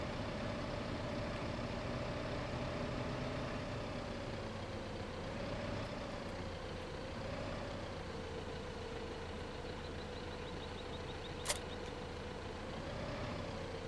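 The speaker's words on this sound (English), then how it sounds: "we'll just use this small tractor" A small tractor engine in Farming Simulator 15 drones steadily at idle, a low continuous rumble with a faint tonal hum that barely changes throughout, heard alone without talk.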